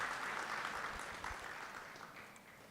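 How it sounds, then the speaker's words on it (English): Audience at a Premier Bank Kenya live-streamed event applauding as a panelist is welcomed on stage, a soft, distant and steady patter of clapping that slowly fades. "please welcome him on stage as well with a round of applause"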